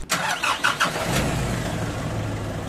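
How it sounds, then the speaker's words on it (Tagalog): A Nissan car engine cranks over with a few quick starter pulses, then catches and settles into a steady idle after brake repair work, heard close up in a workshop. "Tapos pwede mo nang pa-start itong makina."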